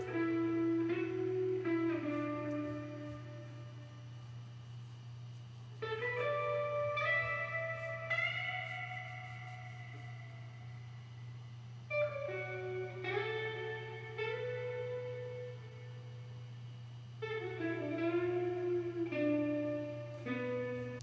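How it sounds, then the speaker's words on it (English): A solo guitar, recorded dry and smoothed with declicking, plays melodic phrases of plucked notes and sustained chords in several separate passages, clean and upfront over a low steady hum. "So the guitar by itself sounds like this."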